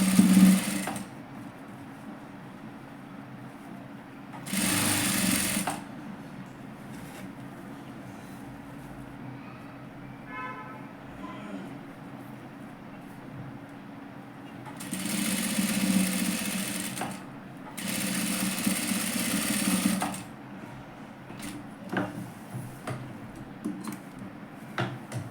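Sewing machine stitching net sleeve fabric in short bursts, a close rapid whirring chatter starting and stopping several times with quiet handling pauses between runs.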